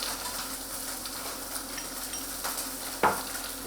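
Seabass fries in a hot pan as butter goes in, a soft steady sizzle with faint stirring and one sharp clatter near the end, no voices.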